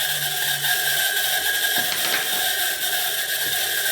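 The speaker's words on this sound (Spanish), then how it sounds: "Ya este motor hay que hacerle cambio de rodamiento, así que por esta vez alto ruido." A noisy electric motor with worn bearings runs steadily, giving off a constant grinding mechanical whir with a rattling, ratchet-like edge at moderate loudness; no one talks.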